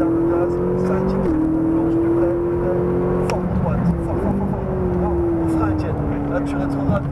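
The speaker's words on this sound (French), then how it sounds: "Là tu rétrogrades pour ralentir mais ça marche pas" Ferrari 458 engine on a racetrack, a steady loud drone with a pitch that steps and slides down as it downshifts and slows under braking, with talking over it.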